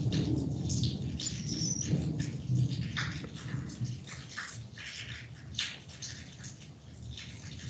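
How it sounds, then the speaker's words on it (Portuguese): Steady rain falls, a dense broadband hiss with patters and scattered drops, fairly close and continuous, with a faint low rumble underneath and no voices. "Será que tá chovendo?"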